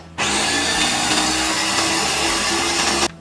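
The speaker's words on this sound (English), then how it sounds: "Close the food processor and start to mix it." Food processor blending aquafaba with extra virgin olive oil and a little coconut oil, a loud, steady motor whir with churning liquid that runs unbroken for about three seconds, starting and stopping abruptly.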